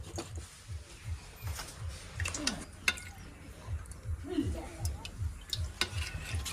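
Cumin, chillies and turmeric are tempered in hot oil for a samosa filling. The oil gives a soft, steady sizzle with rhythmic scraping taps from stirring, and faint voices come through now and then.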